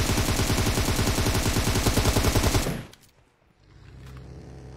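Dense, rapid automatic gunfire in a video game crackles loudly for nearly three seconds, then cuts off abruptly, leaving a quieter low rumble.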